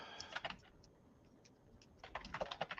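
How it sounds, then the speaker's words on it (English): Quiet typing on a computer keyboard: two short bursts of rapid keystrokes separated by a brief pause, close and soft, with no talking. "you typing into the AI beast, Susan?"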